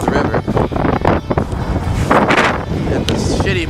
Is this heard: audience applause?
no